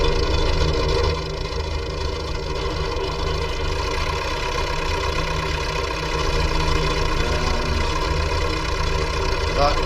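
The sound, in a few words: tractor engine running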